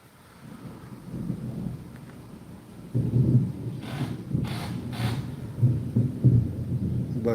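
Distant thunder rolls in low, rumbling waves, swelling and fading several times, with a faint patter of rain in the background.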